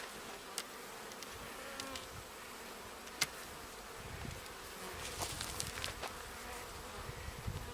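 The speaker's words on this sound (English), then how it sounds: "this hive is completely full of bees" Dense, steady buzzing of many honey bees inside a packed hive, with occasional sharper sounds over the low drone.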